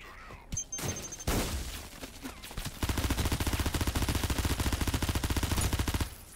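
Gunfire rings out in the shooter game Out of Action. A few scattered single shots and impacts come first, then a long, loud burst of rapid automatic fire hammers on for several seconds before cutting off.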